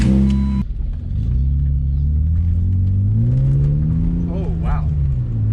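A car pulls away and accelerates with a deep, steady engine rumble that climbs in pitch and loudness, close by and continuous, with brief voices inside.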